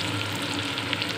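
Onion frying in hot mustard oil with browned cumin in a kadai, a steady close sizzle and crackle that holds level and unbroken throughout with no voices.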